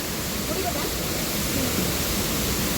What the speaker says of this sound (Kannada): ಇದು ಸೆಕೆಂಡ್ ಸಣ್ಣ ಫಾಲ್ಸ್ ನೋಡ್ತಿರೋದು ನಾವು.